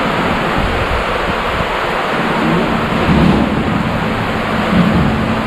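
Very heavy rain pours down in a loud steady roar with deep rumbles of thunder underneath, close and without any voices, at a pearl farm.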